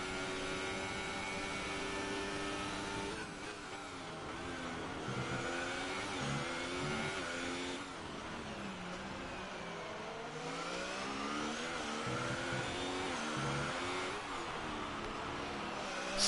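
Onboard engine of a Formula 1 car in a video game at the Mexican Grand Prix, a loud, continuous high-pitched whine that rises and falls through gear shifts, steady and close throughout.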